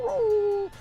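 A person imitates a wolf with a single drawn-out, whining yip that rises and then slides down, close and fairly loud, with no talking around it.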